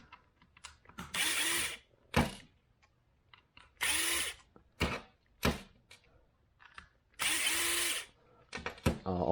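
An electric screwdriver backs short screws out of a Nerf Rapidstrike blaster in several close, whirring bursts of a second or so, separated by clicks and handling noises of the plastic shell.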